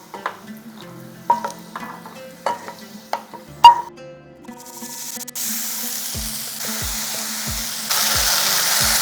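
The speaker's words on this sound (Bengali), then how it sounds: "মটরশুঁটিটাকে হালকা ভেজে নিয়েছি।" Green peas fry and get stirred in a pan while cooking a vegetarian orange pulao, starting with scattered scraping clicks, then giving way to a steady, bright sizzle that swells louder toward the end, with no talking.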